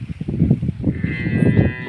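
A calf and buffaloes low on a farm, a close, deep, repeated mooing that carries on steadily under a faint background hum.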